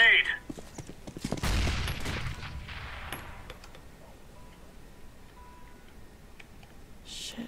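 Grenade blast in the CS:GO game, thrown into a church: a heavy boom with rumbling decay, followed by a quieter stretch of faint game ambience and small ticks.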